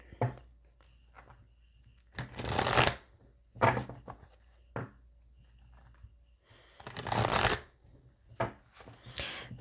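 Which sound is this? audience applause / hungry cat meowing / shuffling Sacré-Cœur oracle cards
shuffling Sacré-Cœur oracle cards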